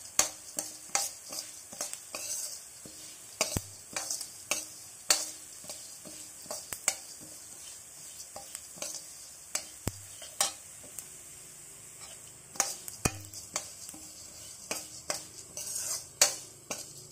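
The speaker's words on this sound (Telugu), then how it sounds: "మాడిపోకుండా లో ఫ్లేమ్లోనే బాగా వేపుకోవాలి" Moringa leaves dry-roasting in a pan over a low flame, with repeated sharp scrapes and taps of a spatula against the metal as they are stirred over a faint crackle, close and without talk.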